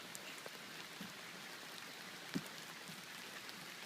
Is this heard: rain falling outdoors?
yes